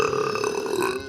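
A single deep, drawn-out burp from a woman, loud and close, lasting about a second and fading at the end.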